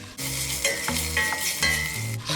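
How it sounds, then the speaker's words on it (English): Bacon sizzles steadily in a pan for the Amatriciana sauce, with a loud, continuous fry broken by several sharp scrapes and stirs, close up and with no voice over it. "For the next 5 minutes I'm just going to be stirring the bacon"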